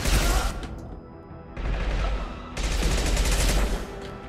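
Bursts of submachine gun fire in Mass Effect 2, three loud rapid volleys separated by brief lulls, close and harsh.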